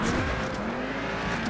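A Lamborghini Temerario with a V10 engine roars steadily in the Asphalt Legends Unite racing game, a dense, continuous high-revving drone with no talk over it.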